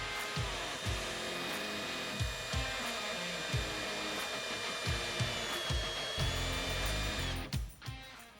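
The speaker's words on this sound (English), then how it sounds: "Using a step bit, we'll then drill a hole in our switch blank" A power drill whines steadily while a step bit cuts a hole in a switch blank, with repeated bursts of grinding as it bites, ending as the drill winds down.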